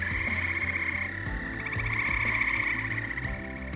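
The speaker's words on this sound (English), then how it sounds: "See a lot of the amphibians come alive and hear them at night." A dense chorus of frogs croaks at night in a park forest, a continuous overlapping trill with steady rhythmic pulses, moderately near and with no voices.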